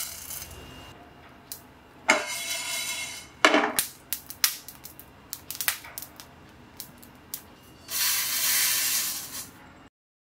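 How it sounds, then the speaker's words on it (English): Coriander seeds and spices sautéing in a pan for an Indian curry: scattered crackles and pops over a soft sizzle, with a few louder bursts of hissing frying. "let's saute till it gets slight brown and crispier"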